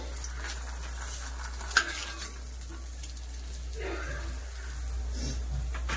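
Fish frying in a pan gives a steady, soft sizzle close by, with a brief clink of a utensil early on over a low hum and no voices.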